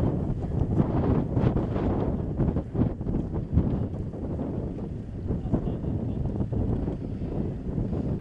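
Strong wind at a wildfire in Çanakkale, Turkey, buffets the microphone with a constant, rumbling roar and gusty bursts throughout, no voices heard.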